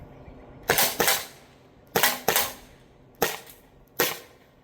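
Less-lethal self-defense launcher fired six times, close and loud: two quick pairs of sharp pops followed by two single shots, each with a short decay and no talking.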